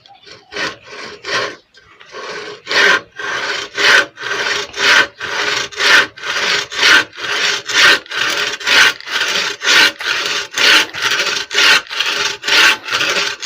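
A hand saw cutting wood with steady, rhythmic back-and-forth rasping strokes, loud and close, after a brief hesitant start.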